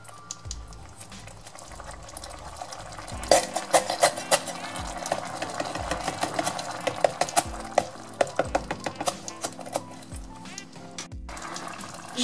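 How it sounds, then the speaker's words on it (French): Tomato coulis bubbling and simmering with lentils in a pan for a vegetarian shepherd's pie, a steady close bubbling texture with frequent sharp clicks and spoon scrapes, no voices. "maintenant j'ajoute le coulis de tomates et je laisse cuisiner 2 à 3 minutes"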